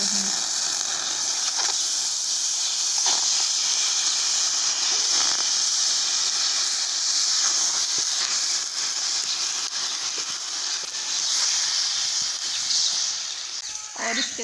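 Washed chicken tails dropped into a hot frying pan give a steady, loud broadband sizzle and hiss that lasts throughout without letting up.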